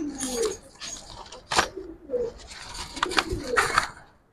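Coos from a female giribaz pigeon mixed with rustling and handling noise, close and fairly busy, with a possible faint voice in the background.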